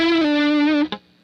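Electric guitar lead line played dry with no reverb, a single sustained note that bends slightly and then cuts off abruptly, followed by a brief pick or string noise and near silence.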